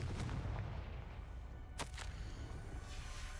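In the video game Hogwarts Legacy, a Confringo fire spell goes off with sharp whooshing blasts over a dense, rumbling game soundscape, with a prominent crack near the middle followed by a second burst.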